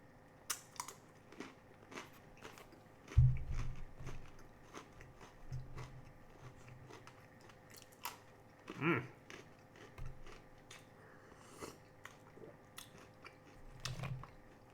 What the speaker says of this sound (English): Nothing like pretzels and hot tea.